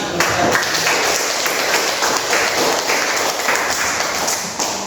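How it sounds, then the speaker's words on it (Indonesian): Classroom applause from a group of students after a group presentation, a dense, steady patter of clapping that holds evenly for several seconds without a break. "Tepuk tangan."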